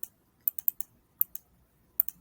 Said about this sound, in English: And then I'm going to begin typing.